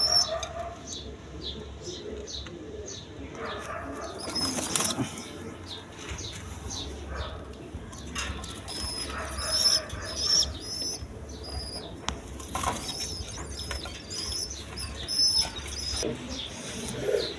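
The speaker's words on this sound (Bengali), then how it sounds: "এখানে এক পেয়ার বোম্বাই কবুতর আছে, হোয়াইট কালার" A pair of white Bombay pigeons coo and chirp near at hand, with repeated bursts of flapping wings scattered through the stretch and more birds calling faintly behind them.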